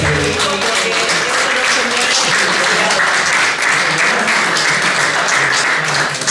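Loud, dense audience applause at an anniversary show, sustained evenly for the whole stretch with crowd noise mixed in, honoring Rigoberto Lobo Matanche.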